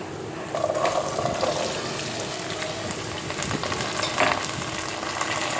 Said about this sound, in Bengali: পেঁয়াজটা ভালোভাবে নেড়ে ছেড়ে নেব লাল হওয়ার জন্য।